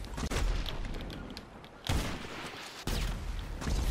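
Sniper rifle shots in a one-shot 1v1 video game match, with sharp booming reports and rolling echoes, two heavy blasts spaced about a second apart over a continuous rumbling game backdrop.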